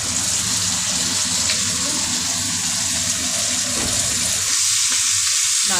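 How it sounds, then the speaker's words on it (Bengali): Chilli chicken being stirred with sauce in a pan, giving a steady, loud sizzle and bubbling frying noise throughout, with occasional scraping of the spoon and no talking. "নাড়াচাড়া করে সস দিয়ে দিয়েছি।"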